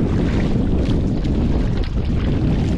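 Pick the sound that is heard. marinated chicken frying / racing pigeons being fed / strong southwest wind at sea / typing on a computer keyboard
strong southwest wind at sea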